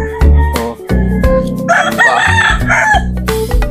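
A backyard rooster crows loudly and close by in one long, full cock-a-doodle-doo, with a little clucking from other chickens.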